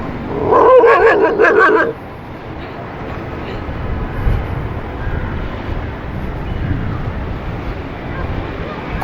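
A dog barks near a railway track, giving a quick burst of loud, close barks in the first two seconds, followed by quieter outdoor ambience with faint movement.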